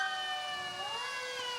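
A New Lenox Fire Department vehicle siren wails at a Loyalty Day parade, a steady, loud sweeping tone with no talk over it.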